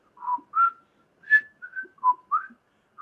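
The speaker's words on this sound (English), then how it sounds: "I don't know if I can whistle anymore" A person whistles a short halting tune of about eight separate notes, moderately near and quiet, with no talking over it.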